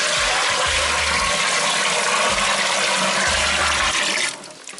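PBW cleaner solution pours into an Ss Brew Tech infusion mash tun, a loud, steady gushing rush of liquid that runs for several seconds and then cuts off sharply.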